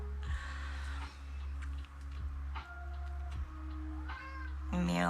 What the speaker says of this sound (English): Baby kitty who demands attention.